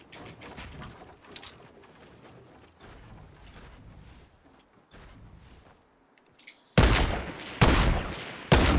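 Gunfire in the battle royale game Fortnite: scattered, fairly quiet crackling shots and bursts at first, then three much louder, close, sharp blasts of fire in quick succession near the end, with no talking.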